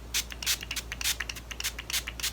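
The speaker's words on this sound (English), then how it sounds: "Just closing the eyes and spraying it on the whole face." Setting spray from a cheap makeup bottle mists onto a face in a series of close, soft hissing bursts at an uneven rhythm, with no talking.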